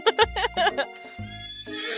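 Colonel Sanders' horse in a video game lets out a series of short, loud, rhythmic whinnies followed by a longer trailing neigh, close and clear.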